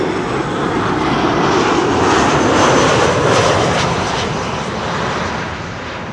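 A Transavia airliner roars in to land at Schiphol on runway 06, its loud, steady engine rumble close and continuous, swelling slightly mid-pass and easing off.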